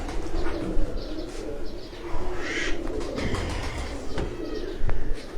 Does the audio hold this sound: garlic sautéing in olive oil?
no